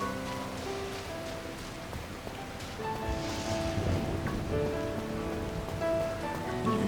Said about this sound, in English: Thunderstorming and the rain coming down pretty heavily.